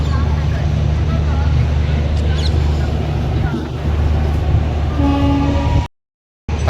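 A train pulls out of Ahmedabad junction with a steady low rumble and rolling noise, a faint horn sounding briefly near the end, before the sound cuts out abruptly.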